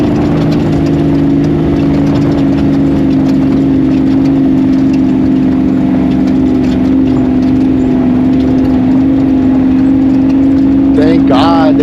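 An off-road race vehicle engine drones steadily and loudly during a desert race, holding a constant throttle note throughout while a voice talks over it.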